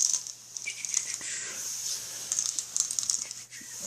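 Painted plastic Zombicide board game miniatures from the base set are shuffled along a tabletop, giving a close, steady run of light clicking and pattering contacts with small bursts of knocks.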